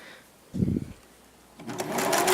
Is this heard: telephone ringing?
no